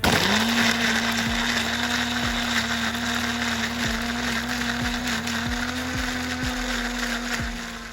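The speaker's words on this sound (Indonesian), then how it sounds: "Kita blender jadi satu ya. Yuk kita blender dulu." A kitchen blender whirs steadily at close range as it grinds turmeric, ginger, candlenut and chili into a paste, its motor tone holding even while dull clunks repeat as chunks strike the blades, with no voices.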